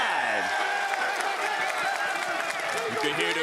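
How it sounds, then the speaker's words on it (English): A wrestling crowd at a live pro wrestling pre-show roars, whoops and applauds continuously and loudly throughout, with scattered shouts and claps filling the arena. "You can hear the crowd here."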